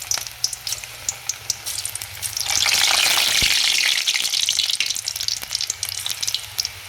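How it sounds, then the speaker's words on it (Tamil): Egg pakoda batter, dropped in pinches into hot oil and deep frying, gives a steady sizzle that swells into a loud, bubbling hiss partway through and keeps crackling to the end. "எண்ணெய் காஞ்சோடனே நம்ம கிள்ளி கிள்ளி போட்டு பிணைஞ்ச மாவை பொரிப்போம்"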